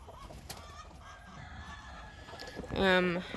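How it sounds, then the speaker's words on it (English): Silkie and Frizzle bantam hens nesting on a clutch of bantam eggs in a corner; a quiet room hush gives way to one short, loud, harmonic squawking call from a hen near the end. "We have a Silky and a Frizzle who are trying to both sit on these eggs in the corner here."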